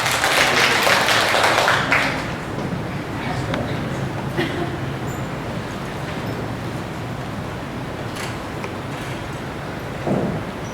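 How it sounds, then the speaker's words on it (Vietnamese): An audience at a dental workshop in Ho Chi Minh City applauds the speakers in a short burst of clapping. It fades after about two seconds into quiet room murmur with a few faint taps. "Xin cho một tràng vỗ tay."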